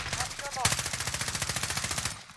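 Rapid automatic gunfire in Modern Warfare Warzone, a dense, evenly spaced burst of loud shots running for about two seconds right up close, with a brief voice sound just before the firing starts.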